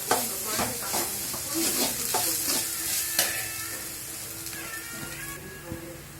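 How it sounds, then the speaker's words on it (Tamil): Onion and grated coconut sizzle and crackle in a hot pan while a utensil stirs and scrapes, close up, with small pops and a steady frying hiss. "வெங்காயம் கொஞ்சம் ஒரு லைட்டாக வதங்கினோடனே நம்ம துருவன தேங்காயும் போட்டு நல்லா வதக்கிக்கலாம்"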